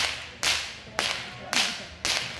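Sharp whip cracks from a musical whip act at a Renaissance faire, four loud snapping strikes spaced about half a second apart, close and alone with no voices.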